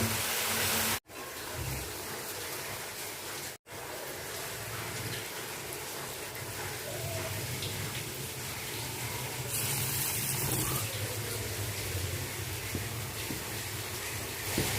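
Lentil fritters (bora) fry in hot oil with a steady, continuous sizzling hiss close by. Two brief dropouts break the sound early on.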